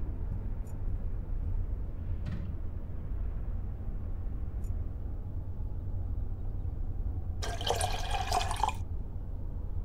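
Water pours into photo developer to dilute it in Black Mirror 2, a short splashing gush of about a second over a steady low ambient hum, after a few faint drips and clicks.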